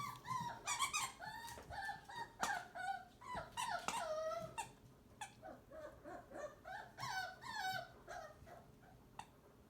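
Several dogs whimper and whine in quick, high-pitched bursts, close by and fairly soft, with occasional sharper yips mixed into the restless, uneven pattern.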